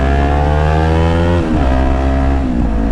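A motorcycle engine runs loud and close while riding into city traffic in Manila, its steady drone shifting pitch as the rider changes speed, with no talking.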